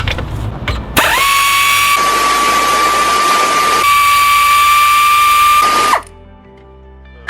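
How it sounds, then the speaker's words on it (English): A power tool spins off the alternator mounting bolt on a 1989 VW Jetta MK2 diesel, giving a loud, steady mechanical whine that lasts about five seconds and then stops abruptly, with faint clicks just before it. "Then there's a big mounting bolt on the bottom that comes off, and then the whole thing just lifts out."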